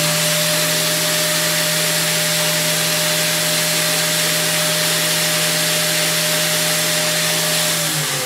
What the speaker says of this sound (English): I just want to touch this up with the sanding wheel.